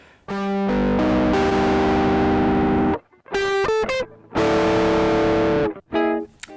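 Clean, dry electric guitar signal playing sustained chords and short plucked notes, close and fairly loud, with brief gaps of silence between phrases.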